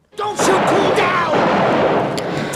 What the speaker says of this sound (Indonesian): Namun saat anak itu kembali ke kelompoknya, mereka melepaskan tembakan ke arah Rambo